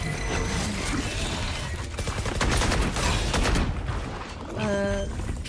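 Rapid gunfire bursts from the video game Valorant, a competitive esports match, dense and loud with overlapping shots and effects, ending in a short tonal in-game cue.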